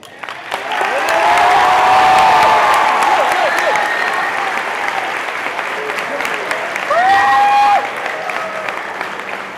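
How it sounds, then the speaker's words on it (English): Audience applause at a Central High School assembly fills the hall, loud and sustained for several seconds, with voices and cheering mixed in and a second swell near the end. "that deserves the applause"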